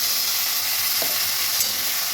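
Chili and spice paste for a foli fish curry sizzles steadily in a hot pan, with a soft scrape of stirring partway through and no talking.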